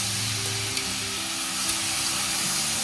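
Grated beetroot sizzles in a hot pan, a steady close frying hiss with soft stirring scrapes underneath and a low hum in the background.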